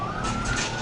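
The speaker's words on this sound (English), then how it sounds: "Coming out on the ambulance." A loud, steady ambulance siren wails close by for under a second, filling the scene without any voices.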